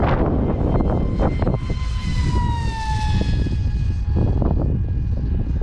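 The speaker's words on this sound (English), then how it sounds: "What is it, the F540 brushless motor, 4370 kV. And wow, 3S is a rocket" An RC flying wing powered by an F540 brushless car motor, 4370 kV on a 3S battery, screams past with a loud, high-pitched whine that sweeps down in pitch as it flies by.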